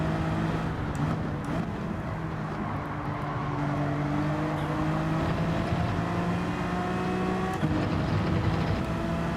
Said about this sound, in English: We can hear the scraping of a car down the barriers.